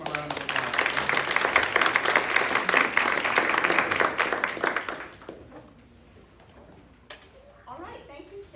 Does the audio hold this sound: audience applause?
yes